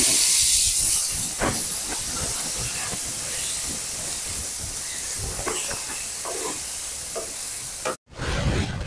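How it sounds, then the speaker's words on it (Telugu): Ground wood apple chutney hits hot tempering in a pan with a loud hiss of steam and sizzle, settling into steady frying crackle with faint stirring, then a brief dropout near the end. "ఇప్పుడు నూరి పెట్టుకున్న పచ్చడి వేసుకుందాం"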